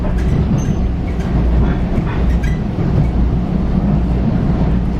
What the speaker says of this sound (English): Here goes my train. This is the train to Penn Station.